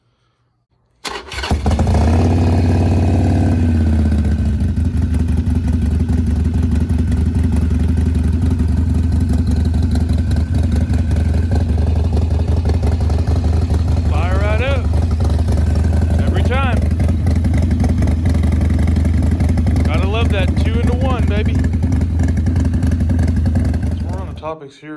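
A 2007 Harley-Davidson Sportster 1200 Custom, freshly filled with synthetic oil, cranks and fires after a brief silence, then idles loudly and steadily with a lumpy rumble for over twenty seconds, with faint voices partway through.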